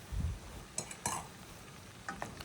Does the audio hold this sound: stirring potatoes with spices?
yes